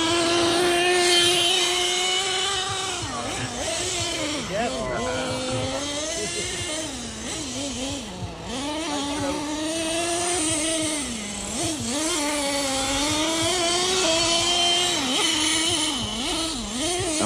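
Electric RC cars race around a raceway track, their high motor whine rising and falling continuously as they take the curves, loud and close throughout.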